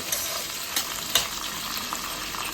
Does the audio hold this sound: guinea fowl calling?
no